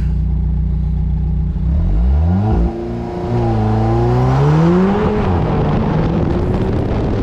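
An Alfa Romeo 4C launches in launch control race mode during an autocross run. The engine revs loudly, and its climbing whine dips with a quick gear change before rising again as the car accelerates hard, with no talking.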